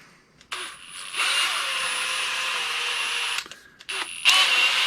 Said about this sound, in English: we're going to take our drill, we're going to chuck it up in our drill